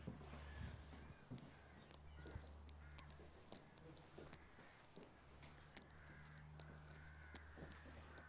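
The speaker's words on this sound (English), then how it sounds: "In that small woodland there are about 1 trillion crows going absolutely nuts." A large flock of crows caws continuously in a small woodland near a reconstructed Roman villa in the UK, many overlapping harsh calls at moderate distance over steady low rumble, with faint background voices.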